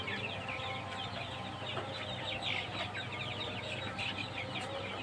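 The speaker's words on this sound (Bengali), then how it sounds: "এই যে দেখেন আমার সোনালী ক্লাসিক মুরগির বাচ্চা" One-month-old Sonali classic chicken chicks cheep and cluck continuously in a shed, many small calls overlapping at a steady level against a constant fan hum.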